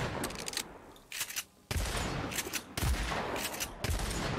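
Loud bursts of rapid automatic gunfire come from the video game Agents of Mayhem. The volleys come in several stretches with short gaps between them, and a sudden sharp onset marks each new burst.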